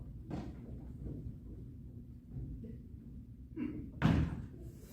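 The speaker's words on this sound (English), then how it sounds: "Who's at the door?" Indoor door sounds, a soft knock early on followed by a heavier slam-like thud near the end, muffled and moderately loud over low room rumble.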